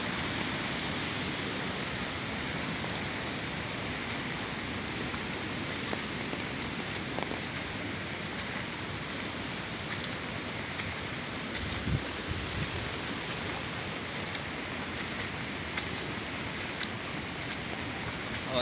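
Strong floodwater rushing across farm fields, a steady loud broadband roar of churning water that continues unbroken throughout, with no clear voices over it.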